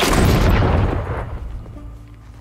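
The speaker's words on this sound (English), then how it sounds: "I just want to see the explosion." Explosion in the video game Journey to the Savage Planet, a deep, loud boom that rumbles heavily for about a second, then fades into quieter game ambience.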